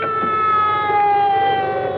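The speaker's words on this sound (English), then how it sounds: "I think I hear a siren." A wailing siren sound effect from an old-time radio mystery drama, a loud sustained tone that slowly slides downward in pitch, heard alone.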